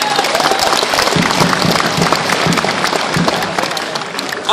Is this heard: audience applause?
yes